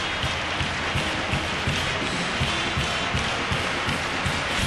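Crowd at a Penn State versus Nebraska college volleyball semifinal, a dense, sustained roar of cheering and clapping filling the arena, steady and loud with no break.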